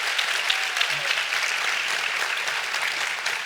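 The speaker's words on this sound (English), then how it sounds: "A round of applause for our state board members." Audience at an education summit plenary applauds state board members, with steady, moderately distant clapping filling the whole stretch without a break.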